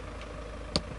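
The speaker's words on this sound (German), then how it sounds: "ist sehr leise, also der Motor läuft" The engine of a Pössl Campster camper van with a 180 hp automatic idles very quietly as a soft, steady low rumble, with a single brief click partway through.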